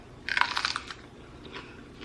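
A crunchy bite into raw sweet pepper eaten with cottage cheese and mustard, a close burst of crisp crackling snaps followed by softer chewing crunches, with no talk over it.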